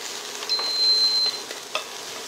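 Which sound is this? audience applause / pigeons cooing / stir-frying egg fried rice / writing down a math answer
stir-frying egg fried rice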